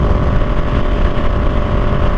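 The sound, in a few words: motorcycle engine braking from 60 mph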